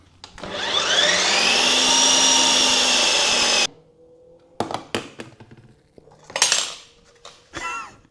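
A loud ice cream maker churns light ice cream, its steady motor whine holding for about three and a half seconds before cutting off, followed by short clatters and scraping bursts.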